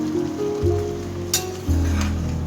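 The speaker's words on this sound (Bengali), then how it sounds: "আমি এই যে নাড়াচাড়া দিয়ে শাকটা ভালো করে কষে নিব" Malabar spinach (pui shak) frying in a pan, a steady low sizzle with a couple of surges as the greens are stirred, close and without talk.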